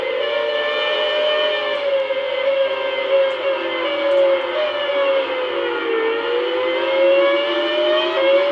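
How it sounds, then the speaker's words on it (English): Tires screech in the racing game F1 Championship Season 2000 at the Japanese Grand Prix, a sustained tonal squeal that slowly bends up and down in pitch, steady and loud with no voices. "I hear tires screeching."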